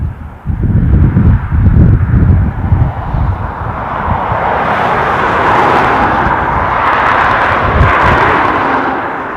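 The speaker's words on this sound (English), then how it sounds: "So we'll just pick up the 330 that is about to go wheels down." An Airbus A330 airliner approaches to land at Dublin Airport, its engine roar building into a loud, sustained broadband rush after a rumbling, gusty start, with no voices over it.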